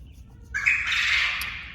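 A quail rooster crows once, a short harsh squawking call close by, rising over a quiet background.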